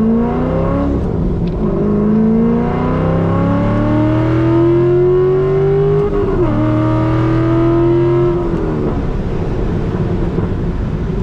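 A cammed C5 Corvette engine revs and accelerates from low RPM, its tone climbing through several gear pulls with brief dips at the shifts, loud and close from inside the car, with no talk.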